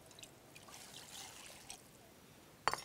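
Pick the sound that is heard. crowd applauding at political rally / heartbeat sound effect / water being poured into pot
water being poured into pot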